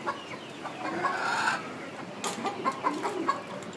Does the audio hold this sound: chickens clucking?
yes